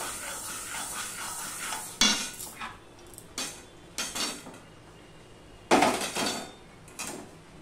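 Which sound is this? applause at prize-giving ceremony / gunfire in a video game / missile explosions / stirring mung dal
stirring mung dal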